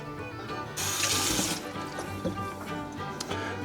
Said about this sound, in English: Now let's go put 2 quarts of water in there.